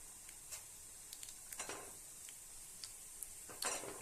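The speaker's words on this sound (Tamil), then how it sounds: "எண்ணெயும் காஞ்சிருச்சு கடுகு உளுந்து இதில் சேர்த்துடலாம்" Mustard seeds and urad dal spluttering in a little hot oil make a faint background sizzle, broken by scattered soft pops and light clinks of a utensil. No one talks.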